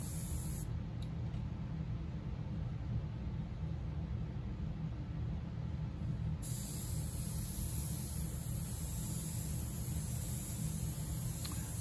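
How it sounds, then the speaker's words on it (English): An airbrush sprays paint onto a portrait, giving a steady, close hiss that runs unbroken and evenly loud throughout, with no voices. "I'm gonna finish this portrait with this airbrush"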